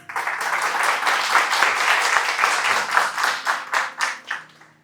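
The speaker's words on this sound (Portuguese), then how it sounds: "Vamos aplaudir a palavra de Deus?" A church congregation applauds at Mass, a dense, fairly loud wash of many hands clapping together that breaks into more rhythmic, pulsing claps as it winds down.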